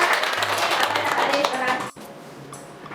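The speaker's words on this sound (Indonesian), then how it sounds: "tepuk tangan kelompok 2" Classmates clap for group 2 in a school lesson, a burst of many hands under overlapping talk, cutting off abruptly near the two-second mark before quieter room sound.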